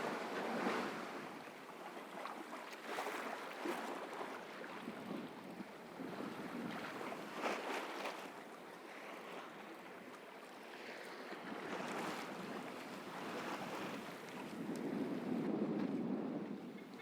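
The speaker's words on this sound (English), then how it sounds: "we're sailing again. We've got a broad reach." Sailboat on a broad reach in strong winds, with steady surging waves and wind rushing against the hull and microphone the whole time, broad and continuous with no voices.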